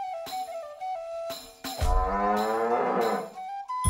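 Cartoonish cow moos from the video game South Park: The Stick of Truth, a long, loud, wavering bellow with harmonic stacks that starts abruptly and fills most of the clip after shorter tonal game sounds.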